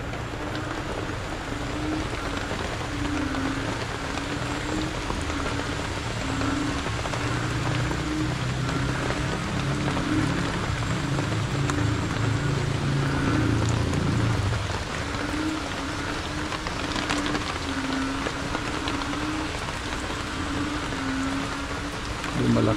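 Steady rain pours down in a continuous even hiss, with a faint low hum running beneath it.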